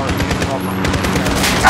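Gunfire from Call of Duty Modern Warfare (2019), rapid shots crackling steadily at close range amid a busy battle mix.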